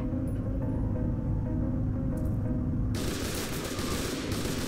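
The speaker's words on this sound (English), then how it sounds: "I can't see who's shooting me." Rapid gunfire rattles in the video game F.E.A.R. 2: Project Origin, dense overlapping bursts of shots with a sharp, loud volley breaking out near the end, no talk over it.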